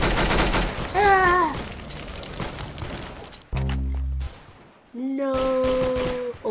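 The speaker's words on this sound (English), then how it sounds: "Ooh, I got the machine gun." Gunfire from a machine gun in the Roblox first-person shooter Arsenal, heard as bursts of rapid shots mixed with game sound effects, with a player's voice exclaiming briefly over it.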